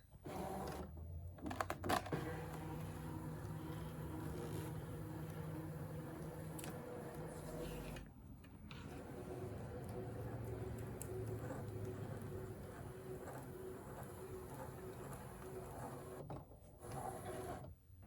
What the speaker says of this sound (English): We're going to scan, direct cut to machine, start.